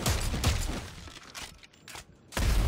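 Gunfire in the video game Dead Space 3, dense bursts of shots and impacts at the start and end with a quieter gap in between, loud and close.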